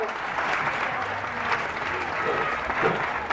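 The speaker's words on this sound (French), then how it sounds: "Oui, on l'applaudit très fort." An audience at a country fair day applauds loudly and steadily, a dense crowd of clapping hands sustained throughout with faint crowd murmur underneath.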